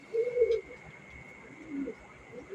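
Soft pigeon coos from a cock bird kept at home, a short cooing phrase near the start and another fainter one later, under a steady background hum.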